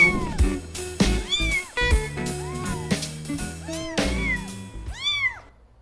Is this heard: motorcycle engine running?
no